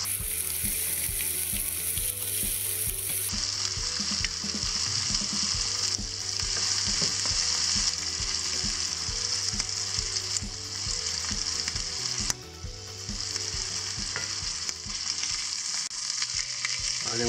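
Shallots frying in butter in a pan give a steady, close sizzle with occasional stirring scrapes, bright crackle running the whole time without voices.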